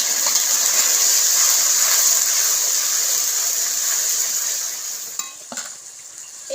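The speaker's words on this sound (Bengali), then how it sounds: "ভালো করে আমি পেঁয়াজগুলোকে একটু নেড়ে চেড়ে ভেজে নেবো।" Onions fry with a spice paste in a pan, giving a loud, steady, close hiss of sizzling oil that eases off near the end, broken by a few brief scrapes of a spoon.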